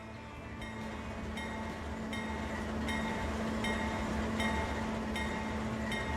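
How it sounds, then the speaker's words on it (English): A train runs in the video game Transport Fever 2, giving a steady rumble with faint regular clicks from the rails, continuous and moderately quiet with no talk. "Alright, so there's a brand new train."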